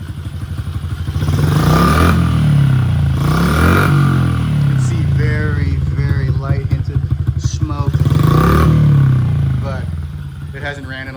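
Honda XR50 motorcycle engine idling with a steady low putter, then revved hard a couple of times in loud rising-and-falling bursts, with clattering mechanical noise close by.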